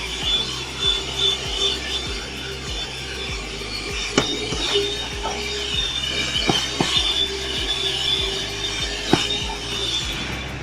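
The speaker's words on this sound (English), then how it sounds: "we're gonna do a little vacuuming." A vacuum cleaner runs inside a 2024 Chevrolet Trax with the floor mats removed, giving a constant whining drone with rhythmic rubbing strokes and occasional knocks as the nozzle works the floor, close up with no speech.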